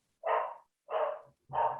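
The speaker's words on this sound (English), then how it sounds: "sorry about the dog in the background." Three evenly spaced barks from a dog, fairly loud and clear against silence, each short and sharp with brief pauses between them.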